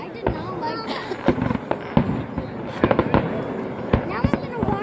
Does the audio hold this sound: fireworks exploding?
yes